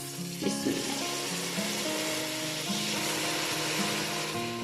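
Chopped, peeled tomatoes hit a hot pan for a masaledar bhindi tori, giving a steady, close sizzle and frying crackle throughout, with soft background music and no talking.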